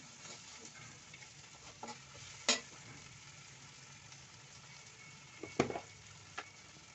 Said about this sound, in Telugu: పప్పు వేగిపోయి ఉంటుంది చూసుకోండి